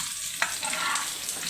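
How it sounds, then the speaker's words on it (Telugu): Tempering sizzling in a pan while cooking a green chili and okra curry, a steady frying hiss that starts with a sharp crackle and then holds evenly throughout, with no voices. "తమ్ముడు అయితే పోపు వేస్తున్నారు"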